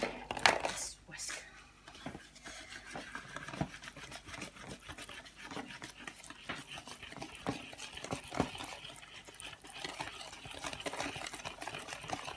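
Egg waffle batter whisked in a bowl, giving a steady fast wet clatter and swishing that runs continuously at close range, with a voice talking over it at times.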